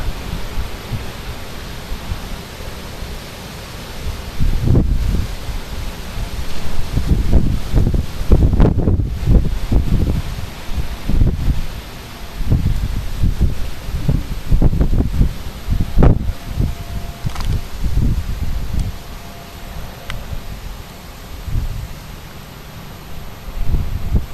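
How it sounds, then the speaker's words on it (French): Wind gusts roar and buffet against the microphone outdoors during storm Kirk in Clermont-Ferrand, a loud, continuous rush of noise with repeated surging peaks across the whole stretch. "Quelques petites pointes, quelques petites rafales."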